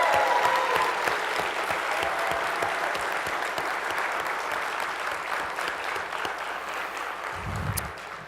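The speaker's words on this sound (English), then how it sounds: "give the Sheridan a big round of applause for all the hard work they did" At a closing ceremony, an audience gives the hotel staff a big round of applause. Sustained, moderately distant clapping from a crowd stays fairly even, easing slightly toward the end.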